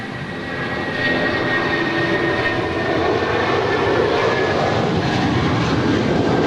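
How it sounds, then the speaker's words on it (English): United Boeing 757-200 jet departing LAX for Newark, a loud, steady engine roar that swells and holds throughout as the airliner climbs away, broadband and continuous with no talk. "2335 departing to Newark Liberty. It's a 757-200 gone off into the clouds"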